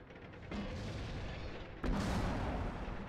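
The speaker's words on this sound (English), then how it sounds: "Dodge artillery by going backwards and forward." Artillery fire booms in the tank game World of Tanks, with two muffled blasts heard at a moderate distance over a low background rumble.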